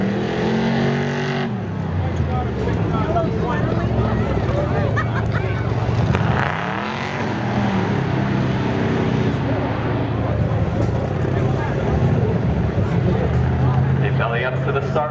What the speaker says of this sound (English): Manny Diaz up next out of Seekonk in the 89 Camaro, going up against Rob Gingras in that 1949 Ford F2.